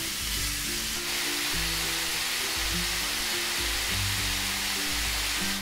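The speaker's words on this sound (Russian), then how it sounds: "Как только наше мясо поджарилось," Loud, continuous hissing sizzle of turkey meat frying in a hot pan, with a low droning melody faintly underneath.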